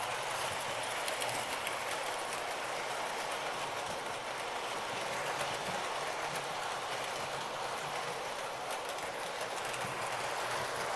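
A Lionel model train runs on a Halloween layout with a steady, soft rolling clatter of small wheels on track, continuous and fairly quiet with no talk over it.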